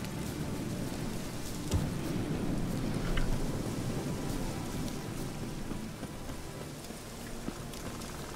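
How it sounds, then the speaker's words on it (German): Rain pours in the video game The Witcher 3: Wild Hunt – Hearts of Stone, a constant hiss of drops with low rumbling beneath and a few sharper splashes, steady throughout without speech. "Weiß er jetzt, wann es regnet."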